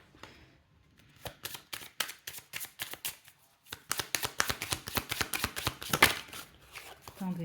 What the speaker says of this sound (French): Je vais vous tirer une carte de l'oracle